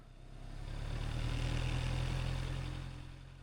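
A motorcycle engine pulls away slowly as the clutch is eased through the friction zone, a steady low rumble that swells gently to a peak and fades again, near and with no talk.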